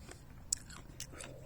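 Fresh, crunchy cranberries are bitten and chewed, with faint close crunches and a few sharp crisp snaps against a quiet background.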